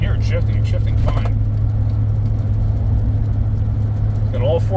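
Steady, loud low drone of a 2006 Chevrolet engine and road noise from inside the cabin on a test drive as the transmission works through its gears, with short bursts of talk near the start and end.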